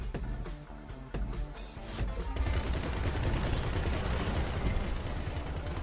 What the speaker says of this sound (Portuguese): Eu tô atirando no cara e não consigo matar.